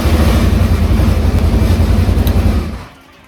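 A Polaris RZR 900S UTV runs on its old exhaust, a loud, close, throbbing idle with a rough pulsing rumble that holds steady, then cuts off and drops to near silence at the end.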